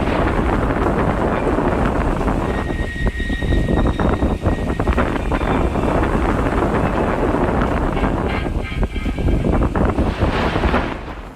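Strong wind blowing against a tall radio antenna gives a loud, continuous, roaring rush with gusty swells and faint whistling tones, and no other sound rises above it.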